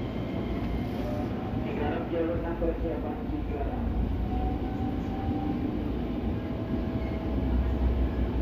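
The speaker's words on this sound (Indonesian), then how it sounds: "kita mulai berjalan meninggalkan stasiun Bekasi." Commuter train pulling away from Bekasi station on a double-double track line, a steady continuous rumble of wheels and rail noise with faint squeals and clatter throughout, heard from on board.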